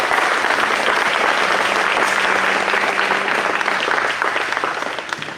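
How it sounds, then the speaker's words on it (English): An audience at a 4-H style revue applauds beginning sewing projects with sustained, dense clapping from a crowd that holds steady and then starts to fade near the end. "I think they deserve a round of applause just for that."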